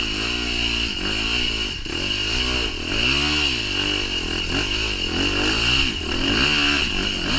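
A KTM 150 or YZ250F dirt bike engine revs hard and continuously on rough, rocky single track along a cliffside, pitch rising and falling in repeated surges up close.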